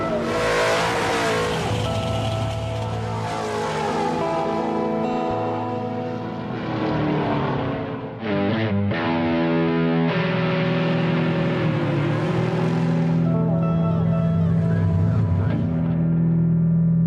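Cars racing down a drag strip, engines roaring loud and continuous for the whole stretch. One sharp, brief drop and change in the engine sound comes near the middle before the full roar resumes.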